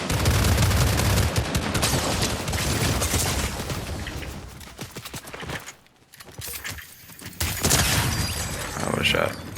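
Charge shotgun blasts in a video game firefight, several loud bursts of gunfire rapidly layered over busy game noise, dropping out briefly before resuming, with excited talk throughout.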